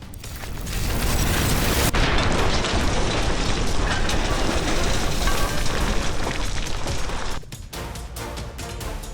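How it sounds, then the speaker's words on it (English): A powerful explosive dropped by a drone blows apart a building where soldiers hid in a basement: a sustained, loud broadband roar and rumble with a sharp crack near two seconds, dropping off abruptly toward the end. "The explosion destroyed the building."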